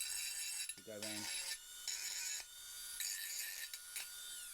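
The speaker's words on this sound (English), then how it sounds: "So to do the burring, I'm using a Dremel, which has got one of the stones attached to it" A Dremel rotary tool with a grinding stone deburrs the edges of metal van security brackets, giving a high, rasping whine in bursts with short pauses and a brief tonal catch near the start, close and moderately loud.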